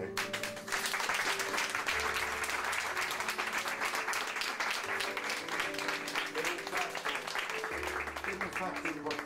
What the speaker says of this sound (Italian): Io pregherei di applaudire.